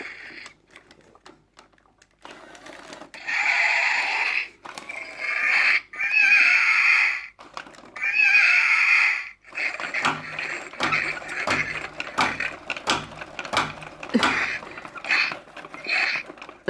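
WowWee Roboraptor robot toy lets out bursts of shrill, screechy electronic cries, three loud calls in the first half, followed by rapid clicking and whirring mechanical chatter from its motors, heard close up with no voices.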